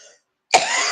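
A man gives a single sharp, loud cough close by, preceded by a brief faint sound and then a moment of silence.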